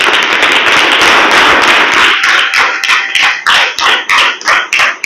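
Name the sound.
audience clapping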